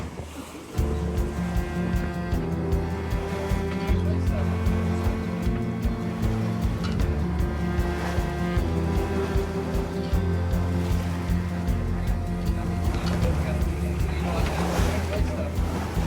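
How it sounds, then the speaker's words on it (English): A sailboat out on the Pacific Ocean with waves washing and wind buffeting the microphone, while steady loud tonal music plays over the whole stretch. "Sailing."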